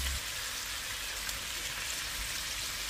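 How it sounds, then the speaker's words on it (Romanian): Pork and noodles fry in a pan with a steady, close, even sizzle as sauces are poured in for a Chinese pork noodle dish; no one speaks. "Acum începem să punem sosurile."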